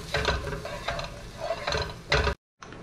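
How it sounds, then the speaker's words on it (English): A pan of curry spices, curry powder, dried cilantro and crushed red pepper flakes, being stirred, giving a steady scraping, clattering rhythm with a few louder strokes, close and alone, ending in a brief silence. "Stir."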